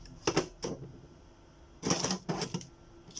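A Birch receipt printer prints and cuts, with short bursts of clicking and whirring in two groups separated by a quiet pause, heard up close.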